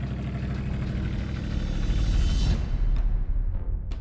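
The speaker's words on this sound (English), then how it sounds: "I get to drive one of the V8 hot rods." Deep rumbling V8 hot rod engine with upturned exhaust pipes idling close by, then revving up with a throaty roar before settling back.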